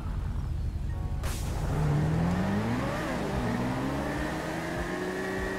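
Cars race in GTA 5, a Bugatti, a McLaren 720S and a blacked-out Nova among them: engines rev and whine upward, tones rising as the cars accelerate, steady and loud with no talk.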